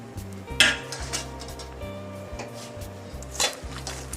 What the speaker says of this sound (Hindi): हम अपने मखाने रोस्ट करेंगे, इसी बर्तन में कर लेते हैं।